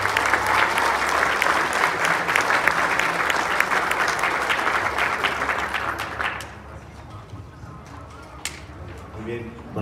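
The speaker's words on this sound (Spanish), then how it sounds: "recibamos con un fuerte aplauso" Loud, steady applause from a crowd at a school roof construction ceremony in Mexico for about six seconds, then fading to scattered claps and quiet room noise.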